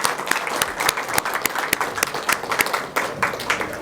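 An audience at a church book launch for a poetry collection in Kathmandu claps steadily, a dense patter of many hands that stays close and even throughout.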